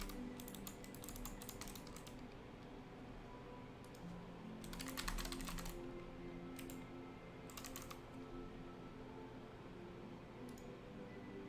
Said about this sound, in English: This is the keyboard I'm using right now.